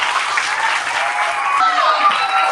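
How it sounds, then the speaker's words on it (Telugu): Audience applauding during a Teacher's Day speech at a school, a dense burst of many hands clapping steadily for a couple of seconds. "వినిపించండి మీ చప్పట్ల సబ్బడి."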